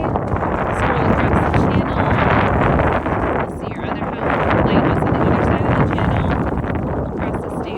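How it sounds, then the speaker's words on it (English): Strong wind buffeting the microphone on Lake Havasu while kayaking toward a channel, a loud, continuous roaring rumble with gusty swells throughout. "It is a little windy as we're getting ready to come into the channel."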